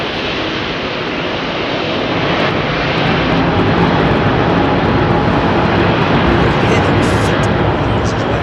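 An airliner departs from runway 27R at London Heathrow Airport, its jet engines producing a loud, continuous broadband roar. The roar swells slightly partway through and stays close and sustained to the end.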